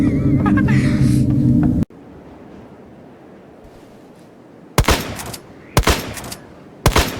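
Gunfire rings out in a Wild West-style shooting video game: a few sharp, loud shots spaced about a second apart after a quiet stretch, heard close with no talk.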